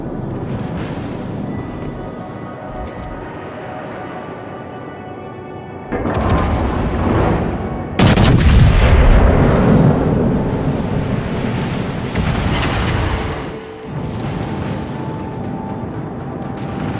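Naval guns fire from warships, including the Nelson, in a sea battle video game, with a deep rolling rumble and a sharp, loud blast partway through.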